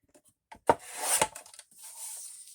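Fabric cut to 3 3/4 inches with a rotary cutter or shears, a couple of short close rasping strokes, one drawn out, in an otherwise quiet room with no talking.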